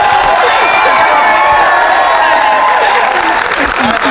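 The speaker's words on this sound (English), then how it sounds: "these people are clapping for me or our team" A crowd at a team game-changer event in Bangalore claps and cheers for a winning team, with loud, dense applause and whoops filling the space throughout. Mixed voices shout over the clapping.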